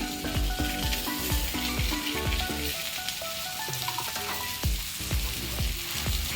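Greens and potatoes fry in a pan, giving a steady, loud sizzle broken by repeated sharp spatula scrapes and taps.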